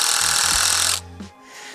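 A power driver hammers screws into a wooden 4-by-8-foot garden grow box, a loud, rapid, rattling burst for about a second that then cuts off, with only faint residual sound after.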